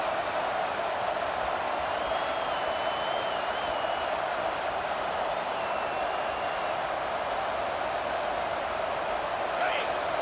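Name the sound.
football stadium crowd cheering for the defense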